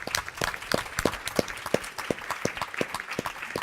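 A room claps for board members and presenters standing at a healthcare partnership event, with sparse, fairly quiet hand claps and no voices.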